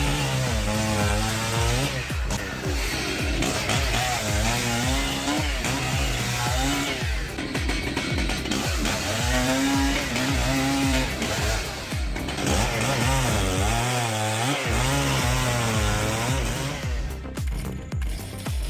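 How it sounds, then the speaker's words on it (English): A Stihl chainsaw roars loudly and continuously, its engine pitch rising and falling as it bites into wood while felling a tree, close by with no talking. "A strong man is using a Stihl chainsaw"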